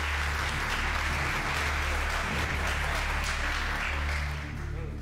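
Studio audience applauding steadily through a televised pantomime game show, a dense, continuous wash of clapping at even loudness from start to finish with no speech over it.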